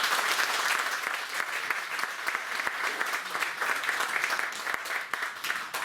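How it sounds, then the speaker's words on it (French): Sustained applause from an audience at an intercultural festival at a château in Gouvy, honouring the organisers; dense, steady clapping from many hands, fairly loud and continuous with occasional sharper claps. "je demanderai encore une fois d'applaudir les organisateurs qui ont eu l'idée d'initier cet événement."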